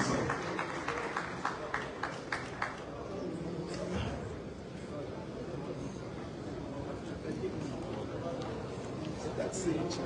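Crowd clapping for Senator David Bonaventure at a live-streamed political gathering, a burst of rhythmic claps early on that fades into a murmuring crowd, with someone talking loudly over it.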